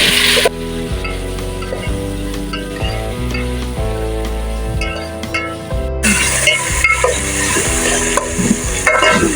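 Chopped tomatoes and bottle gourd sauté in a pan for a lauki chana dal dish, a loud close sizzle with repeated stirring clanks and scrapes, steady under a continuous tonal background, no talking.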